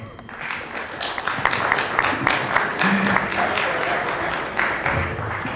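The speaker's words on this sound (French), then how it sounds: "Vous pouvez l'applaudir." Audience applause for Antonietta at a film gathering in Manosque, a full round of clapping from a crowd building and holding for several seconds, with faint voices mixed in.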